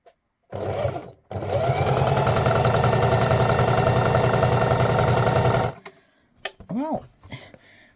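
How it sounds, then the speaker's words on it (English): A Singer Heavy Duty 4432 sewing machine stitches during free motion quilting, a loud steady mechanical whirring hum that starts, pauses briefly, then runs for about four seconds before stopping, followed by faint clicks and handling noises. "So I'm now going to go much slower with my foot pedal, and I'm going to move my fabric faster, but I'm still aiming for a straight line."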